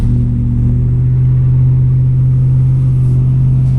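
A half-ton mid-2000s Chevrolet Silverado truck with 260K miles chugs uphill in second gear on a steep grade, its engine a loud, steady low rumble with a rapid, even pulsing that holds throughout.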